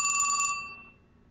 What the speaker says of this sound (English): every morning I have to wake up to my most annoying ringtone.